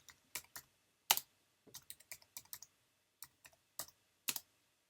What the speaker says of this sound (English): I can basically just type in Losi.